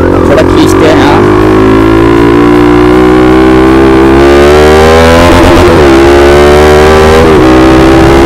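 A motorcycle engine revs up close and loud, its pitch climbing and falling in repeated pulls over a steady rumble.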